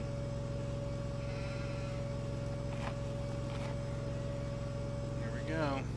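Sheep bleat in the video game Farming Simulator 2013, a short bleating call near the end over a steady game engine hum and background drone, with a couple of faint clicks earlier.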